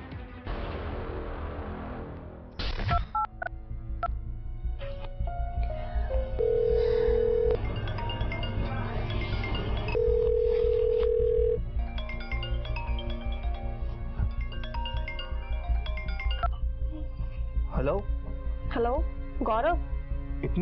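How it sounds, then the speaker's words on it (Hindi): Telephone call placed at night in a dramatized crime story, with a dial tone and repeating electronic tones and ringing under dramatic background music, while a narrator talks over it. "इसी चिंता में डूबी योगिता ने उस रात चुपके से गौरव को फोन किया।"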